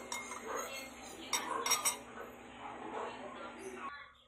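A chicken adobo mixture stirred with metal utensils in a bowl, with soft clinks and scraping and a few sharper taps, close by, beneath a continuous low background hum.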